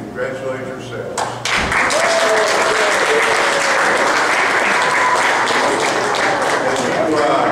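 After about a second of a voice, an audience at a National Honor Society induction breaks into loud, dense applause that holds steady and close to the end.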